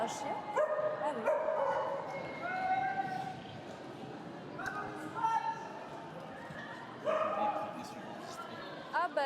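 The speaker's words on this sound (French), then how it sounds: "Oh, un chien?" A dog barks in a few short bursts during a women's roller derby match, heard alongside an announcer talking and a busy crowd.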